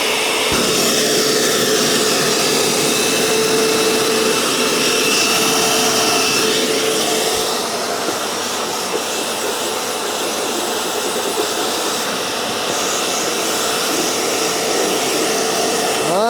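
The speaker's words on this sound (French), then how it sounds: "je vais aspirer la table avec mon gros aspirateur de chantier" A loud, steady roar of a large construction shop vacuum running continuously with a hissing airflow, vacuuming a table, close by and unbroken for the whole stretch.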